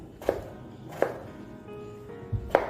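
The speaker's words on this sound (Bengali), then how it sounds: "সমস্তগুলোকে ছোট ছোট করে কেটে নেবো" Vegetables are chopped into small pieces for a water spinach dish, four sharp knife strikes on a board, spaced unevenly and close up, with quiet pauses between.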